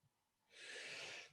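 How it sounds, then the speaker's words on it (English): A single quiet sneeze bursts out after a brief intake of breath, a short hissing blast that fades quickly. "I'm going to sneeze."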